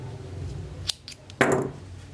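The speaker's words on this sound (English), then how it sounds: "cut your yarn" Scissors cut yarn after a crocheted entrelac pillow edging is finished, giving a brief close metallic snip followed by a louder crisp cutting sound against a quiet background.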